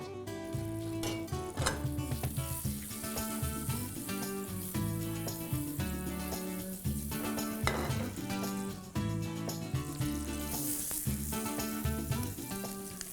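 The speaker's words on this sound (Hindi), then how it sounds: "ये सब्जियों को सौते करना है, थोड़े हाई फ्लेम में करेंगे इसको सौते" Bell pepper, capsicum and onion sauté in oil in a pan over a high flame, giving a continuous close sizzle and frying hiss that runs under steady background music throughout.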